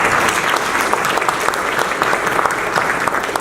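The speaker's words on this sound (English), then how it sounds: "Let's give them a round of applause." An audience at a Veterans Day gathering applauds veterans and their family members with steady, dense clapping that holds strongly through the whole stretch, with no break.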